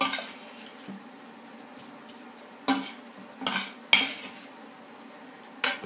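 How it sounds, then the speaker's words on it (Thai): Egg larb with shallots, mint and kaffir lime leaves is stirred with a utensil. A few sharp scrapes and clinks against the dish stand out over a faint steady hiss. "แล้วก็ ใบมะกรูดนะคะ คนให้เข้ากันจ้ะ"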